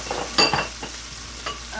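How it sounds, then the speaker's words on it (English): Onions and okra sauté in a pan, with a few quiet stirring scrapes and a soft sizzle in short bursts, faint and close. "we're just going to saute in the onions right now, and the okra"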